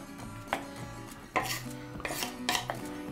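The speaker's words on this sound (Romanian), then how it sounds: "O tăiem cubulețe." A knife cuts ham into small cubes for a mosaic bread filling, giving a handful of sharp, close taps and clinks against the board at irregular intervals, with no talking.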